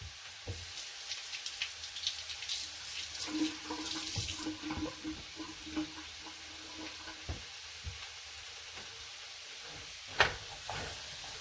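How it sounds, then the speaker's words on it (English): Water from a kitchen tap runs faintly while hands are rinsed, a soft splashing wash with scattered clatters and one sharp knock near the end. "I'm going to rinse my hands real quick because that garlic is sticky."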